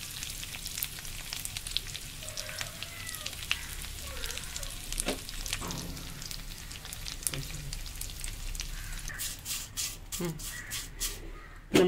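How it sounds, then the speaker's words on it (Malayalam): Curry leaves fry in about a tablespoon of coconut oil in a kadai, a continuous close crackling sizzle with scattered pops, while a voice talks over it at times and a few sharper clicks come near the end. "നമുക്ക് ആദ്യം കറിവേപ്പില ഒന്ന് വറുത്തെടുക്കാം."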